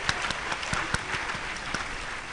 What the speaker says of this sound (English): Round of applause for you again.